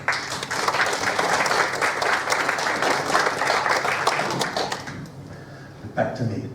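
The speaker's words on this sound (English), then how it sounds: "Give me a big round of applause." A theatre audience breaks into a big, dense round of applause for a tribute, sustained and loud for about five seconds before thinning out, with a voice rising near the end.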